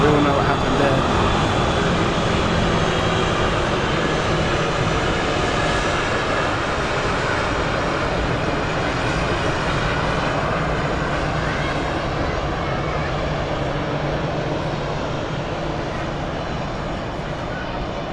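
British Airways airliner flying over Zurich Airport toward Heathrow, a loud continuous roar of jet engines that slowly fades as the aircraft moves away.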